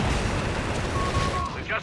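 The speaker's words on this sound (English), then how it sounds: "the barrage I imagine here is just taking out this bunker" Artillery barrage explosions from Company of Heroes 3: a dense, continuous rumble of booming blasts, loud and close, with a voice talking underneath.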